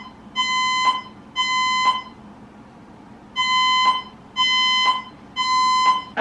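A building emergency evacuation alarm sounds in five loud, evenly spaced electronic tone bursts, each about a second long, with a gap in the middle and no voice over it.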